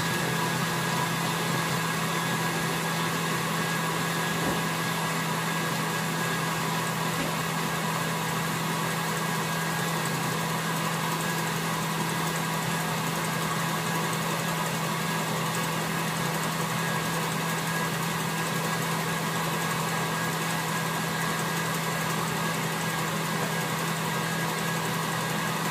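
An electric mixer beats a strawberry ice cream mixture made with milk, giving a steady, unbroken motor whir with a low hum that holds at an even level throughout, with no talking.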